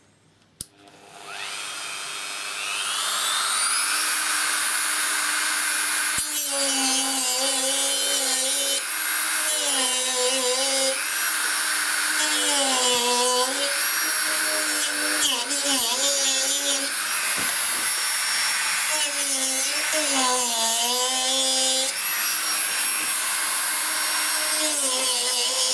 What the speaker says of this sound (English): cut the top edge of this relay